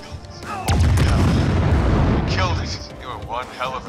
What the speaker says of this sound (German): was explodiert denn hier?